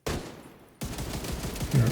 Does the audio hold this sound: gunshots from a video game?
yes